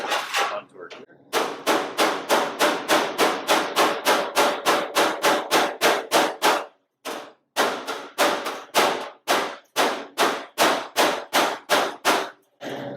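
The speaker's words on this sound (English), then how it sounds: "Couple whacks to stretch it." Rapid hammer whacks stretching sheet metal on a custom COE truck, a long run of sharp, loud, evenly spaced metallic blows with a couple of brief pauses.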